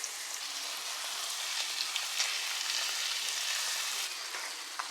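Chicken pieces frying in a pan of oil for homemade chicken chaap give a steady, loud sizzling hiss throughout, with faint crackles and no speech.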